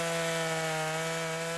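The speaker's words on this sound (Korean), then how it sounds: "해변에 울려 퍼지는 요란한 전기톱 소리" Chainsaw cutting firewood on a beach in Vancouver, Canada, running steadily with a constant engine whine and a strong tonal hum, loud and close with no talking.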